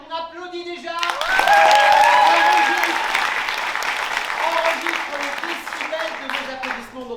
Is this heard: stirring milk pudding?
no